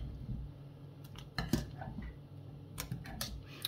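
Semolina flan batter with candied fruit stirred in a bowl: scattered light clinks and scrapes of a utensil against the dish, a few sharper taps standing out over a low background.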